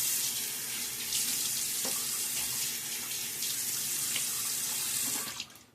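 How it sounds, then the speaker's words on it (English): Tap water runs steadily from a faucet into a sink as a face is rinsed after a straight-razor shave, a continuous close splashing flow that stops abruptly at the end. "So now a little rinse."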